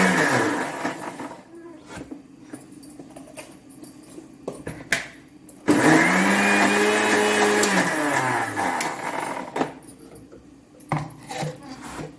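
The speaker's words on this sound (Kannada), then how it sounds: "ತೆಂಗಿನ ತುರಿ ಹಾಗೆ ಜೀರಿಗೆ ಸ್ವಲ್ಪ ಜೀರಿಗೆ ತಗೊಂಡು ಅದನ್ನು ಸ್ವಲ್ಪ ತರಿತರಿಯಾಗಿ ರುಬ್ಬುವ" A mixer grinder coarsely grinds grated coconut and cumin in a home kitchen, its motor rising into a loud, steady whine for several seconds mid-clip before cutting off, with quieter kitchen clatter and room noise around it.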